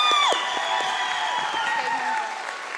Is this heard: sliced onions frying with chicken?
no